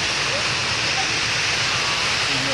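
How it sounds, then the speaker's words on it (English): An indoor garden river waterfall gives a steady, loud rushing hiss with no break, and a faint voice sits underneath it. "you will see that we do have three amazingly beautiful waterfalls here in the river with us"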